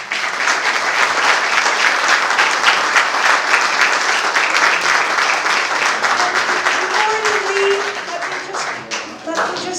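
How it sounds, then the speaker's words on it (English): An audience at a forum lecture on the Putin regime and Ukraine gives a long, loud round of applause, dense and steady for most of the time before thinning slightly toward the end, with a voice briefly heard late. "And let's give him another round of applause."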